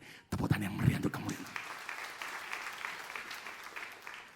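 Applause from a church congregation at a Christmas service, a burst of clapping that starts abruptly and carries on at moderate volume, with some talk mixed in near the start.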